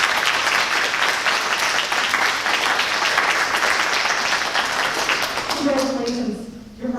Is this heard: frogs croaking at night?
no